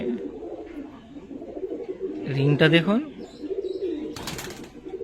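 Andha Fulshira pigeon cooing in short rippling bursts close by, with someone talking over much of it.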